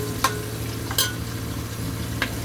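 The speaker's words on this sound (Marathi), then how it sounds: "कांदा लाल होईपर्यंत भाजायचा" Onion fries for a pumpkin dish in a pan with chilli, curry leaves, mustard seeds and cumin, giving a steady low sizzle. Three sharp scraping strokes of stirring stand out clearly above it.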